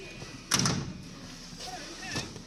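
A small lift door in a UK hotel thuds shut with a sharp impact followed by a brief rattle, close and fairly loud, with faint voices and room noise around it.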